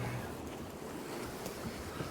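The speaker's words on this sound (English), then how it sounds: "Again, we have the wind and the waves behind us," Wind and waves while sailing a boat along the Norwegian coast, a steady loud rush of wind noise and water wash with no pauses.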